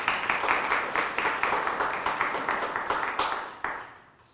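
Applause from a small-business workshop audience, a dense steady patter of many hands clapping that holds throughout before thinning and fading away at the end.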